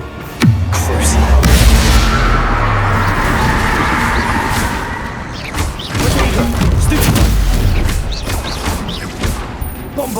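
A Bombarda spell blast from Hogwarts Legacy lands as a sharp, loud boom, then a long rumbling roar of debris. A second burst follows a few seconds later.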